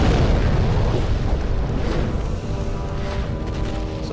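Loud, dense booming blast in the Demon's Souls video game, a sustained roaring rumble that fills the whole stretch and slowly tapers, with no talking over it.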